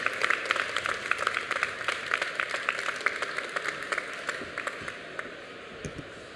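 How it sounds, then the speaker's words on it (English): A conference audience at a startup pitch award ceremony claps for the winner, a lively mix of many distinct claps that gradually thins and fades out. "A round of applause for watchers, ladies and gentlemen."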